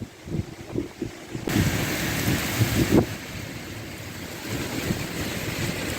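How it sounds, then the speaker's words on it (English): Loud, steady stormy wind roaring and gusting during a severe Ontario storm, rising in a strong surge partway through and staying heavy, with a wash of rain-like hiss. "here comes the wind. That's a pretty good storm."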